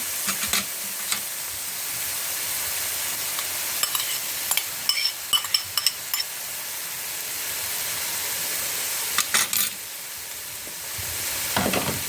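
Mushrooms frying in a pan for mushroom soup, onion soon to join, a continuous sizzling hiss punctuated by clusters of sharp spatula taps and scrapes.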